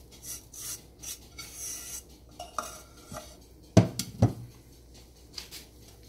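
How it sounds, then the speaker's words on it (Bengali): A utensil scrapes and rubs around a bowl of brownie batter in steady strokes, with two sharper clinks against the side midway. "বাকিটা মিলাচ্ছি আমি।"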